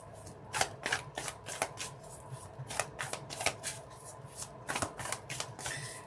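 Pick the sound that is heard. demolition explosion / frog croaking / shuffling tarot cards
shuffling tarot cards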